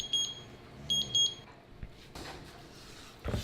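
Kitchen timer on an oven going off after twenty minutes of baking cauliflower mac and cheese, two short clusters of high beeps, fairly faint, followed by quiet kitchen handling noises.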